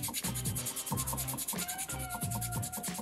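Sandpaper scrubs a soapstone cat carving in quick back-and-forth strokes, a close, rasping rub repeating about twice per second with no talk.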